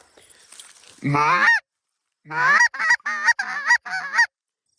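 Geese honk in flight over open country near a highway, one loud honk followed after a pause by a rapid run of five or six close, strident honks, with no voices.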